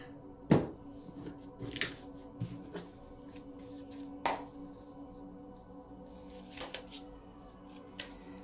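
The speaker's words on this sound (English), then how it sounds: "Okay, I'm going to cut these cards." A deck of tarot cards is cut and shuffled, giving sharp riffles, slaps and soft card clicks that come at irregular intervals in a quiet room.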